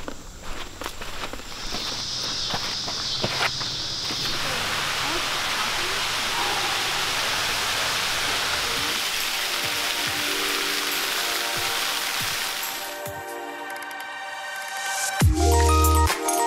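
Canyon waterfalls at Starved Rock, Illinois in winter pour as a steady, dense rushing roar, with crunching footsteps near the start and the wash thinning out toward the end.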